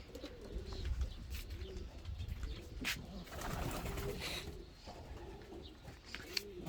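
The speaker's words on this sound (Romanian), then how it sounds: "Aici sunt porumbeii noștri de reproducție, iar aici sunt" Pigeons in a breeding loft cooing softly and repeatedly, low rounded calls overlapping at moderate distance, with faint rustling and a quiet room background.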